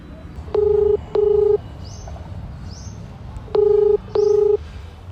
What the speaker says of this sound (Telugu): సరే ఇప్పుడు మనం గంగుకు ఫోన్ చేద్దాం.